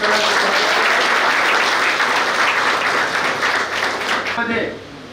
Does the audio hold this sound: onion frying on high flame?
no